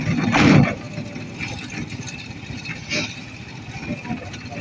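A motorcycle with a sidecar runs with a steady, rough engine rumble under road and wind noise. A brief louder burst comes at the start, and a voice speaks faintly over it.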